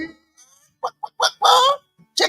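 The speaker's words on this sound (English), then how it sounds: "Chicken, chicken, chicken." Chicken clucking comes as a run of short, loud, squawky bursts separated by brief silences.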